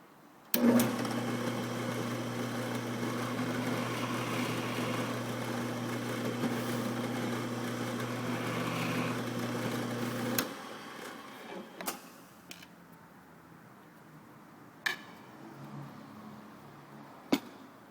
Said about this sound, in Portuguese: eu coloco a peça na mesma posição e vou executar a operação de escariamento